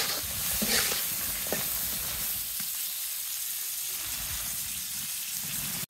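Small bata fish dropped into hot spiced oil in a pan for a curry with young bottle gourd, a steady close sizzle and hiss with a brief louder burst at the start, no talk.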